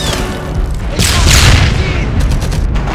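Gunfire in Enemy Front during a church defense: loud booming shots and bursts of fire crowd together, with a heavy blast around the middle and quicker cracks toward the end.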